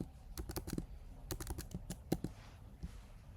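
Keys on a Mac computer keyboard are tapped in quick bursts of close, crisp clicks, with short pauses between groups and no voice.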